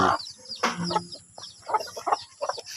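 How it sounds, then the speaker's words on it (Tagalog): Hungry three-day-old chicks peep in quick, high, chirping bursts, several birds close by calling over one another with short gaps between flurries. "Nagutom na yung mga sisiw."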